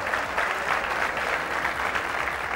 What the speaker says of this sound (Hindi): एक बार इनके लिए जोरदार तालियां हो जाएं।